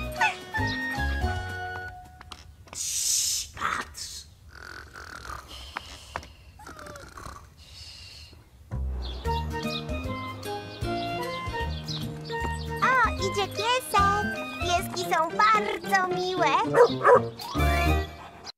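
A cartoon puppy barks playfully in a Polish children's animated show, yapping in short bursts amid music and sound effects, alongside other character sounds.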